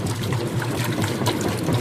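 Toilet flushing into a clogged Vevor FLO700 macerator pump, with a steady rushing, trickling water wash throughout, close and continuous, with no talk.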